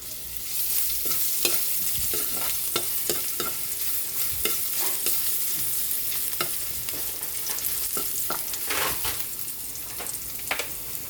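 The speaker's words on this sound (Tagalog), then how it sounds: "Magigisa na po tayo para sa ating ginataang walang kamatayang tilapia." Ginger and garlic sautéing in hot oil for ginataang tilapia, a constant sizzle broken by repeated sharp scrapes and clicks of a utensil stirring the pan, close up and without talk.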